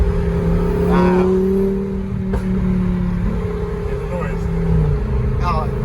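A Lamborghini Huracan Performante sports car engine drones loudly and steadily from inside the car, its pitch climbing gently as it accelerates, while occupants talk over it.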